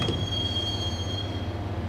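A subway train in the Max Payne video game rumbles steadily up close, with a thin high metallic whine ringing over the low churn of the wheels.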